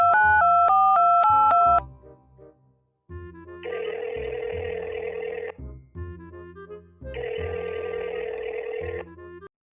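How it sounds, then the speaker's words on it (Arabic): Mobile phone placing an outgoing call: a short melodic tone, then repeated ringback tones in long bursts separated by pauses, clear and close. "طلع موبايلك ورن عليها"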